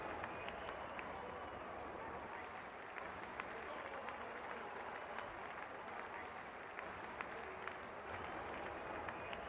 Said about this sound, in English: Crowd going mad here.